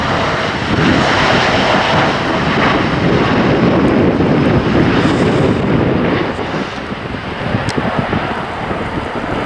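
A Norwegian Airlines Boeing 737 MAX 8 jet flies past at night at Copenhagen Kastrup airport. Its broad, loud engine roar swells and then eases slightly, with wind buffeting the microphone.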